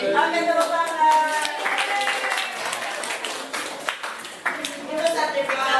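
Schoolchildren at a health education session clap together in a burst of scattered hand claps, mixed with children's voices and chatter throughout.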